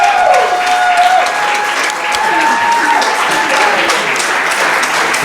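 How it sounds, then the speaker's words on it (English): At a wrestling show, a crowd gives a wrestler loud, continuous applause that fills the space from start to finish, with a shrill whistle sounding near the beginning. "crowd giving their respect to Sean Sparks"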